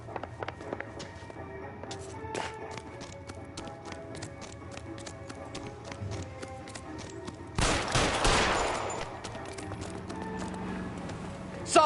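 Gunfire in the video game LA Noire: a rapid run of sharp shots crackling over background noise, followed by a dense burst of louder fire near the end.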